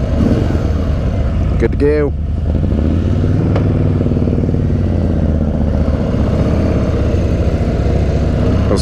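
A 2018 Harley-Davidson Sport Glide motorcycle engine is cranked over in neutral and settles into a steady, close, rumbling idle that runs throughout, while people talk over it.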